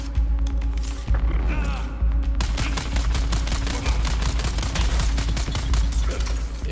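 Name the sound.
gunfire shooting at an enemy in a video game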